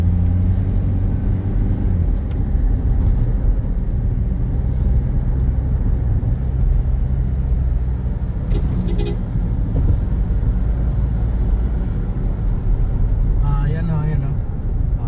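Toyota Innova driving in power mode, with a steady loud engine and road rumble from inside the cabin throughout and a voice talking over it.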